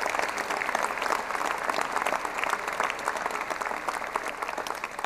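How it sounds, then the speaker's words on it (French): An audience at a civic New Year's greetings ceremony in Dijon applauds two colonels, the clapping steady, dense and loud from start to finish. "Je vous demande de les applaudir, ils le méritent."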